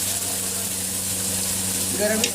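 Whole garam masala sizzles loudly and steadily in hot oil, a dense continuous frying hiss with a faint crackle near the end.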